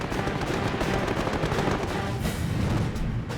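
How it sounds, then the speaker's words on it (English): WWII fighter plane machine guns and cannon firing during a dogfight against German Bf 109s, a dense continuous rattle of rapid bursts with heavy booming under it. "the staccato burst of machine guns and cannon"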